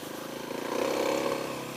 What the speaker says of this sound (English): That stock exhaust is so weak.